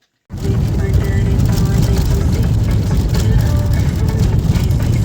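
Car engine running steadily from inside the vehicle on a drive to the shop, a continuous low rumble with road noise that starts abruptly and holds at a constant, fairly loud level.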